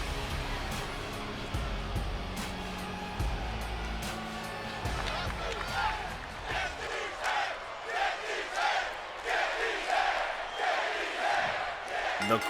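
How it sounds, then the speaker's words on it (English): A video game wrestling arena crowd in WWE 2K22 roars and chants in rhythmic waves, loud and dense throughout, with occasional sharp impact thuds and commentary voices over it. "The crowd chanting, get these hands, and Strowman walking up to Roman"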